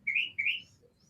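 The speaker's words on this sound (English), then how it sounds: "you're hearing a beautiful bird just having a bit of a talk" A bird calls out twice in quick succession, two bright, clear chirps close by, followed by quiet.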